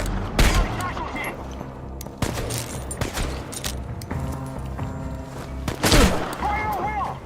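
Rapid bursts of gunfire and heavy shots crack repeatedly during a firefight in the video game Chernobylite, with voices calling out between the volleys.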